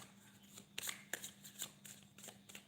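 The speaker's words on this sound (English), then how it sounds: "Right, Ali, let's pull some of your cards." Tarot cards being shuffled and pulled by hand, heard as a quiet series of crisp riffling snaps and slides, roughly six distinct bursts over a soft, low background hum.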